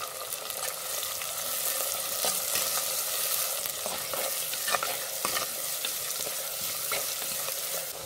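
Onions with salt sauté in a pan for fish curry: a steady, close sizzle runs throughout, broken by occasional scrapes of stirring, with no talking.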